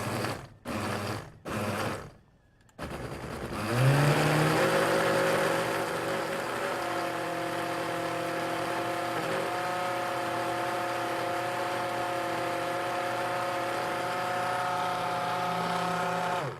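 A blender purees chai latte mix, a few short pulses first, then a loud continuous motor whir that holds steady and close for a long stretch.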